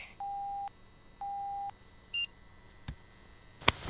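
A phone gives message notification beeps: two steady, evenly spaced electronic tones, then a short higher chirp, followed by a couple of faint clicks against a quiet background.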